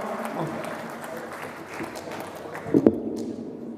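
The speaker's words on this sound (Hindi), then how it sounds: "ज़ोरदार तालियों से इस्तकबाल करिए डॉक्टर तारिक कमर साहब" Scattered applause from a mushaira audience greeting poet Dr Tariq Qamar, a diffuse wash of clapping with a few louder bumps near the end, mixed with faint crowd murmur.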